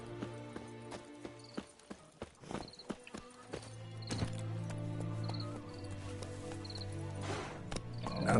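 Hooves of Roach, a horse in The Witcher 3, clip-clop in quick irregular beats that build into a steadier gallop, with a brief whinny and game music tones over them.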